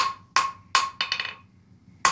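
A blacksmith hammers hot metal on the horn of an anvil in a lesson at Batsto, New Jersey: five sharp, ringing blows in an uneven rhythm, close and clear, with short pauses between strikes.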